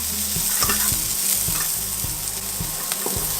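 Onions are stir-fried in a pan for sambal tumpang, a spicy dish of overripe tempeh. A loud, constant sizzle runs under regular knocks and scrapes from a spatula moving the pan.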